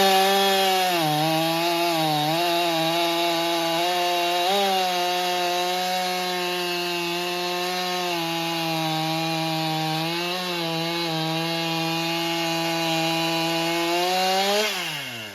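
A Stihl MS261 chainsaw bogs and whines as it rips through a piece of hickory wood, a loud sustained engine drone with pitch dipping under load, then revving up at the end.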